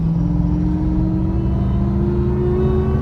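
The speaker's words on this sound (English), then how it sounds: "Let's go like 40 to whatever, half throttle." A Dodge Charger RT with a 3.0 Whipple supercharger accelerates at half throttle, its loud, steady engine drone climbing gradually in pitch from inside the car.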